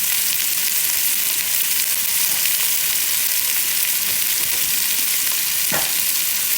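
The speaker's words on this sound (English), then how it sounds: "we're just cooking the onions a little bit right now" Onions frying in hot oil in a pan, stirred with a wooden spoon for beans and rice, give a steady, loud, close sizzle throughout, with one brief scrape or knock near the end.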